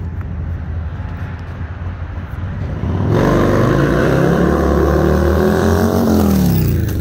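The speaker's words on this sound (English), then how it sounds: "This is an 80-yard dash to see which bike is quicker, the all-electric live wire or the gasoline-powered Dinosaur 114" Two motorcycles, an all-electric LiveWire and a gasoline-powered Dinosaur 114 Low Rider S, race an 80-yard dash. A distant motor drone swells suddenly into a loud, rising engine roar that climbs in pitch as the bikes accelerate past.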